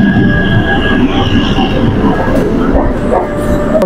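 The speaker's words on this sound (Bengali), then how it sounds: "আসানসোল থেকে আসা বর্ধমানগামী এই মেমু ট্রেনে কিন্তু আমরা জার্নি করতে চলেছি" MEMU local train running from Asansol toward Bardhaman, a steady loud rumble of carriages with faint rail squeal and clatter throughout, no speech.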